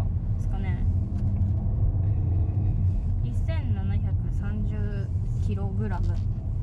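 A Volkswagen Tiguan TDI's 2-litre inline-four DOHC intercooled turbodiesel pulls away under acceleration, a low steady engine rumble heard from inside the car while people talk over it throughout.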